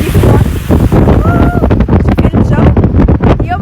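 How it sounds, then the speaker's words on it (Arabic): Strong wind blowing outdoors on a clear day in the United Arab Emirates after heavy rain, roaring as steady broadband buffeting with gusts throughout, loud and close to the microphone. "اليوم الجو هيك بس هوا"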